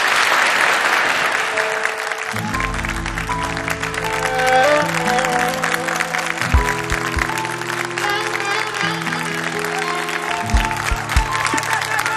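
An audience claps steadily to welcome singers on stage, a dense sustained wash of applause that continues as instrumental music swells in underneath and carries on alongside it.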